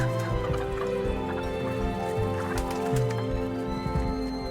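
Hens clucking in a busy farmyard with steady background noise and a few louder animal calls; no one speaks.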